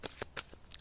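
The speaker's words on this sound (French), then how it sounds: "je tire une carte" An oracle card pulled from a deck, a few quick soft papery flicks and slides close by, quiet and brief.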